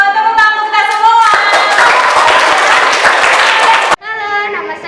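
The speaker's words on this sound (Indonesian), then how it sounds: "Tepuk tangan kita semua." Everyone in a school gathering claps together, a loud burst of close clapping in the middle that cuts off abruptly, with a voice speaking before and after it.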